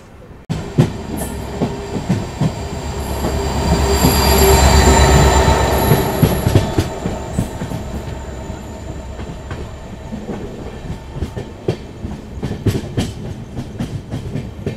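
The Miraj Express, a passenger train from Castle Rock, passes close on the rails. A swelling rumble rises to a loud peak and then fades, with wheels squealing and rhythmic clickety-clack over the rail joints.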